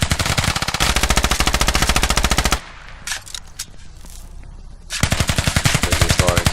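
Rapid machine-gun bursts rattle loudly in a video game, with a long sustained volley, a short pause filled with quieter scattered shots and noise, then another sustained burst.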